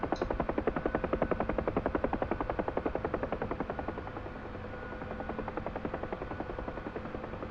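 Huey gunship helicopter in a flight simulator, cruising around 60 knots at 600 feet, with a loud, steady rotor thump pulsing rapidly over a constant turbine drone, heard alone without talk.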